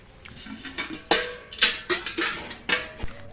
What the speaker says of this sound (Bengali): যে কচুগুলো আমি সরু সরু করে কেটে রেখেছিলাম সেই কচুগুলো আমি ধুয়ে পরিষ্কার করে নিচ্ছি